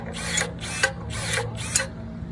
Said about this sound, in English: Then let's see how the pruning shears do.